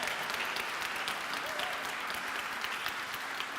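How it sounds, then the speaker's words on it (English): Dense, sustained applause from an audience at a Memorial Presbyterian church evening gathering, a continuous even wash of many hands clapping at moderate distance. "can we give my friend a round of applause?"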